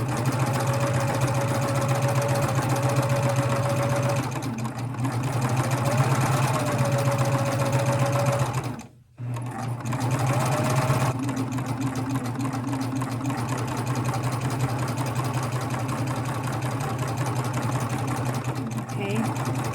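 A sewing machine fitted with a binding attachment stitches binding onto a garment, running in a steady, close mechanical whir with one brief stop partway through, while a person talks over it.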